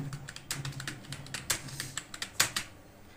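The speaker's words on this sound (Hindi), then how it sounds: "ये है आपकी टाइपिंग, ऊपर नीचे" Fingers tap a computer keyboard in a typing lesson, giving steady, close key clicks with a few sharper, louder strikes near the end; no one speaks.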